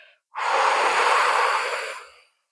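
A person takes one long, audible breath close to the mic during a chest mobility exercise. The breath swells quickly, holds steady for about two seconds, then fades into silence.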